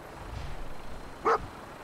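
Dogmeat, the dog companion in Fallout 4, gives a single short bark near the end of a brief, quiet stretch of low game ambience.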